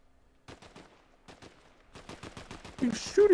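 Gunfire in Fortnite: rapid bursts of automatic shots come in clusters, growing denser and louder toward the end, with a voice briefly speaking over the last part.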